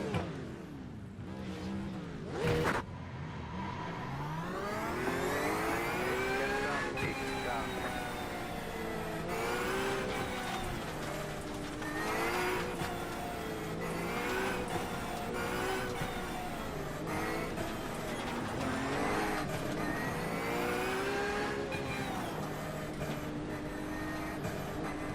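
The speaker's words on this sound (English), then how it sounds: "I will say that Lamborghini sounds great." A Lamborghini GT3 race car in a racing game, its engine droning steadily and revving up and down through repeated rising and falling sweeps, fairly loud and continuous.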